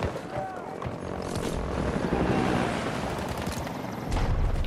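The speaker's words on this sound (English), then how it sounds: "Oh, the chopper!" A helicopter's rotor wash roars steadily through a video game battle, mixed with bursts of gunfire and explosions, while players' voices talk over the din.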